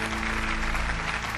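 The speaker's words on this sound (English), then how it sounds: "Please give them a huge round of applause." Short burst of dense, steady audience applause at an awards ceremony as guests are called up on stage, loud and continuous throughout.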